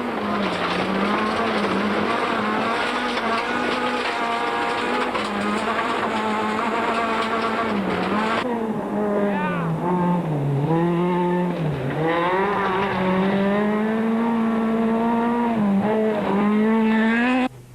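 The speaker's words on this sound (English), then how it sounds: "Back on board as he launches into a tight 90-degree corner" Rally car at the 2003 Sasol Rally revving hard into a tight 90-degree corner, a loud, continuous engine note rising and falling through the gears with brief tyre scrabble, close onboard and with no talking.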